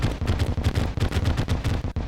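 The Stinger weapon in Terraria auto-fires exploding bolts, a rapid run of about a dozen punchy, booming pops at a steady, quick rhythm, loud and close with no voices.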